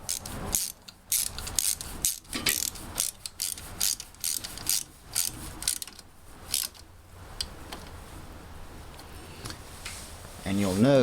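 A ratchet tightens a 10 mm bolt on a carburetor, clicking in repeated quick bursts of strokes with short pauses between them, followed by quieter handling sounds near the end.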